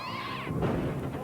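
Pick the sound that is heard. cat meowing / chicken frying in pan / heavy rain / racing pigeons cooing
cat meowing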